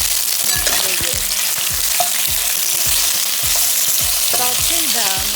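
Pork ribs fry in caramelized sugar with a dense, continuous close-up sizzle that stays at an even level, while faint tonal sounds pulse in the background and no one speaks.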